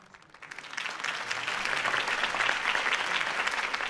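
Crowd applause follows a campaign speech in the Batman Telltale Series video game, rising quickly into dense, steady clapping that fills the scene for several seconds.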